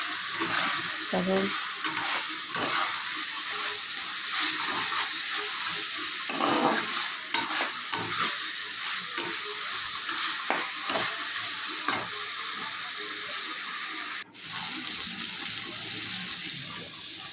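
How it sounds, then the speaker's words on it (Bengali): Fried potatoes and spices are stir-fried together in a pan for a mushroom curry, with a steady sizzle and repeated spatula scrapes and stirs going on throughout, close and continuous. "দিয়ে সব মশলাটা আলুর সঙ্গে কষানো হবে।"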